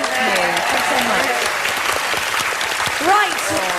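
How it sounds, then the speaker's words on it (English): Applause from a live TV talent show audience, a steady wash of clapping with some cheering mixed in. "But a massive round of applause for these guys."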